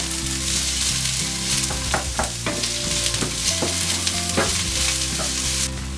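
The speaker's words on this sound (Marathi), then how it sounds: "आपण आता हा कांदा चांगला भाजून घेणार आहोत।" Chopped onion fries steadily in a pan for a Maharashtrian val usal, giving a loud, continuous close sizzle with a few scraping stirs and soft background music underneath.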